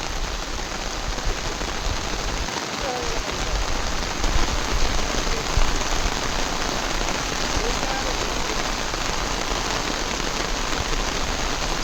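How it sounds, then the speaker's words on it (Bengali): Heavy rain pours down in a dense, unbroken hiss, drumming on surfaces close by, with faint voices now and then under the downpour. "কালকে 6টা থেকে বৃষ্টি চালু হয়েছে, এগুলো বৃষ্টি থামার নাম নাই।"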